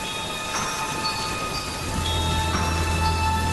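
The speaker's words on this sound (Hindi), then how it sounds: "घर पहुंचने के बाद गुल्ली और शॉन ने देखा कि बाबा घर से बाहर बैठकर बारिश का मजा ले रहे हैं" Steady rain falls in an animated cartoon scene, a dense even hiss that fills the whole clip, with a low rumble joining partway through and no voices.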